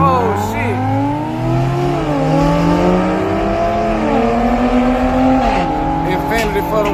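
A drag racing car at a small-tire shootout on a dragstrip accelerates hard and loud, engine pitch climbing through gear changes with a steady roar, while someone talks excitedly close by.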